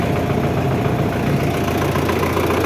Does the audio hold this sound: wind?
no